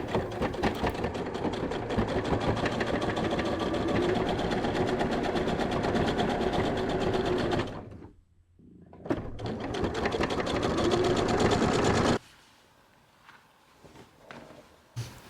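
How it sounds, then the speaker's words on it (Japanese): A sewing machine stitches along a fabric edge in a rapid, steady mechanical whir, running for about eight seconds, pausing briefly, then running again before stopping into near quiet. "前身ごろの中心に沿うようにこうして置いて端を縫おう。"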